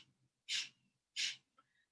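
Two deep, full breaths during seated yoga breathing, each a broad airy exhale of about a quarter second, close to the mic and separated by a short pause in a quiet room.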